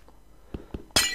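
Glass blocks breaking in Minecraft, two quick soft knocks followed by a bright shattering crash, close and loud.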